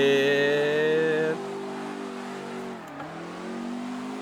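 A Ford GT40 spinning donuts, its engine loud and close as it revs hard at first, then settles into a steadier drone that dips briefly and rises again.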